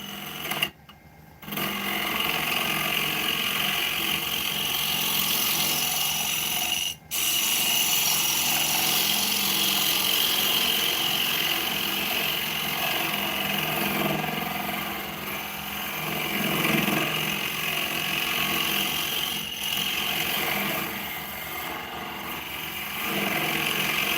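A wood lathe spins wooden tops with a steady mechanical whir, near and continuous, interrupted by two brief dips early on.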